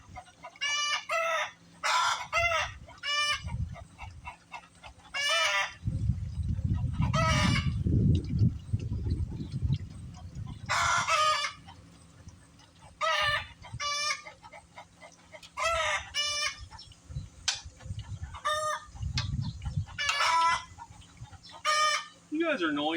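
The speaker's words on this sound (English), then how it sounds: "Chickens are over there singing their happy egg song." Backyard hens sing a loud, repeated egg-laying song with squawking bursts, close by, while a voice talks at times underneath.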